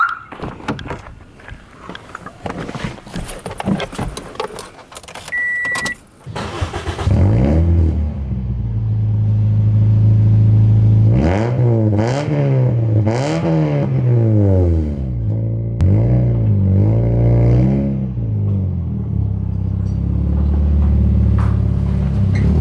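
A car engine revving hard after a stretch of noisy interior rumble, the pitch climbing and dropping in several loud surges over a deep steady drone, with no talking.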